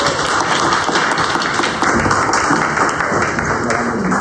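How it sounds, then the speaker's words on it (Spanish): An audience at a book presentation applauds to welcome a speaker, a continuous, even spread of clapping lasting a few seconds. "Recibámosla con un aplauso."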